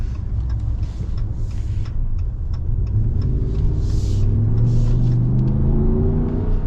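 A lifted 2024 Ram 1500 Black Widow pickup on 37-inch tires accelerates hard, its engine rumbling loud and steady with a rising drone as it gains speed, no talking.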